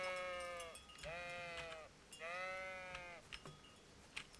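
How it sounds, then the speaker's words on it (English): Sheep bleating in the video game Kingdom Come: Deliverance, three drawn-out, wavering bleats in close succession over quiet ambient background, followed by a few soft clicks and knocks. "Look at the wee little sheepies."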